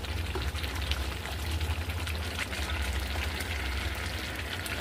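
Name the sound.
meat added to pan, frying for biryani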